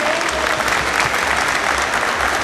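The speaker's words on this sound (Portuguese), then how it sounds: "dou uma salva de palmas para vocês que estão aqui." An audience at a legal talk on the right to health gives steady, full applause, many hands clapping continuously at moderate distance.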